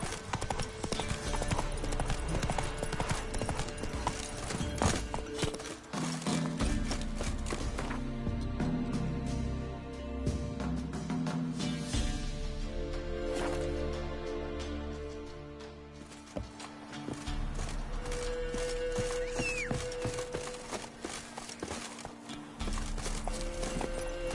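Roach, a horse in the game The Witcher 3, runs with steady, rhythmic hoofbeats that carry on throughout. Game music and ambience play underneath, and a neigh may come through briefly.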